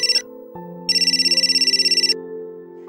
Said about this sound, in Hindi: अर्जेंट फोन आ गया है